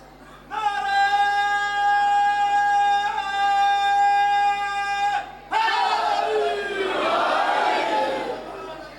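At a Shia religious majlis, a crowd loudly chants slogans in unison. A long, sustained, held voice comes first, then a loud burst of massed crowd shouting.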